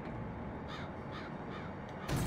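A crow in the game Psychonauts caws three times in an even rhythm, harsh and close, over a steady background hum that swells briefly at the end.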